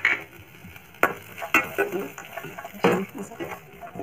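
Fried okra being stirred with chilli powder, salt, turmeric and coriander powder in a pan over a low gas flame, with several sharp spoon scrapes and clinks against the pan among soft sizzling, and a voice talking at times.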